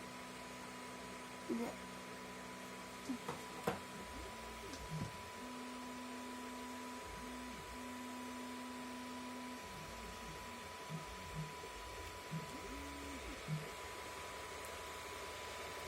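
3D printer printing a plastic knife body: a faint, steady hum of stepper motors with short whirring moves and occasional small clicks, quiet and close.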